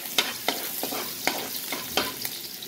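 Garlic and onion sauté in a pan for pork ribs caldereta, a steady close sizzle broken by regular scraping stirs about every half second, with no voices.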